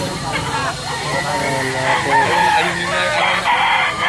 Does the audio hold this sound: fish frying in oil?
no